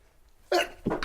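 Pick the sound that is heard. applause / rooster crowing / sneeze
sneeze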